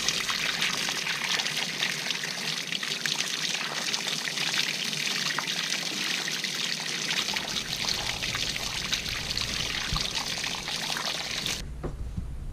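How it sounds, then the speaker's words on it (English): Running water rinses freshly cleaned rainbow trout outdoors, a steady close splashing stream that pours continuously with a low rumble in the first half, then cuts off abruptly near the end. "so we're just gonna rinse off here"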